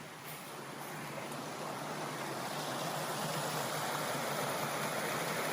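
Lake water pours steadily through a sluice gate beneath a road, a continuous broadband rush that swells slightly and holds at moderate loudness.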